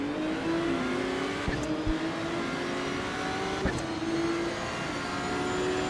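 A Ferrari race car engine in the racing game Assetto Corsa EVO drones at high revs and climbs steadily, loud and continuous, with a faint click or two and no talking.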